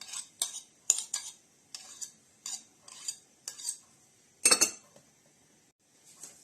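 Soft butter for a plum cake being beaten in a bowl, the utensil clinking against the sides in short bright strokes, about a dozen irregular taps spread over several seconds, close and with no talk.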